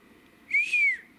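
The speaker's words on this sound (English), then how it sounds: "Could you say hello, like give us a whistle?" A person gives a single short whistle, a clear tone that rises then dips in two quick connected parts. It is fairly close and loud, standing alone against a quiet background.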